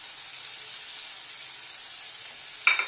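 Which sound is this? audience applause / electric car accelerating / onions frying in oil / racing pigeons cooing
onions frying in oil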